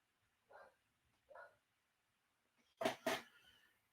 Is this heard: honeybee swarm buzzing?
no